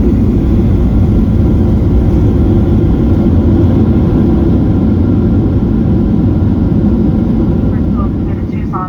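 Inside the cabin of a Southwest Airlines airliner landing on Tucson's runway 29 right, a loud, steady low engine and roll-out roar fills the whole stretch without letting up.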